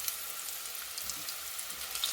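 Breaded okra frying in hot oil, a steady, fairly quiet crackling sizzle with fine bubbling pops running throughout, close and uninterrupted, with no talking.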